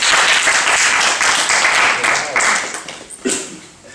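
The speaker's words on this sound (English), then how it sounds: "Give Shiv a round of applause." An audience at a talk on spiritual happiness claps steadily, the dense applause fading toward the end with a few stray voices and noises poking through.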